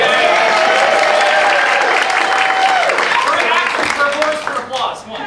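Audience applause at an improv comedy show, loud dense clapping mixed with cheers and whoops from the crowd, tapering off toward the end.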